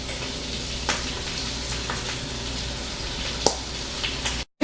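Shrimp sizzle in four tablespoons of melted butter with Cajun seasoning and garlic, a steady close frying hiss with a few sharper pops and crackles.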